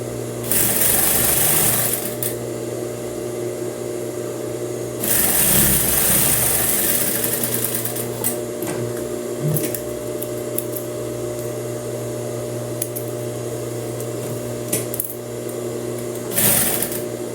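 A sewing machine stitches the side seam of a blouse with a loud, steady motor whir and rapid needle chatter. It runs continuously, with brief surges in speed near the start, middle and end.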